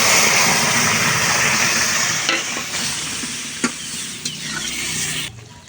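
Papaya and mung dal curry fries and sizzles loudly in a pan, a continuous hiss with occasional clinks and scrapes of stirring, fading slightly toward the end.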